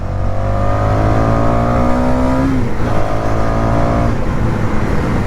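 A 2019 BS4 ABS vehicle engine revs loudly up close, a strong steady drone with the pitch climbing, dropping sharply, then rising again across a few seconds.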